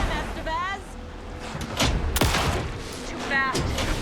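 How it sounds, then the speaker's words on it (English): Gunfire in the Alan Wake II final boss fight, a few sharp shots and bursts mixed with game noise and character voices talking throughout. "Anderson, pin him down with gunfire for me to get the light on him."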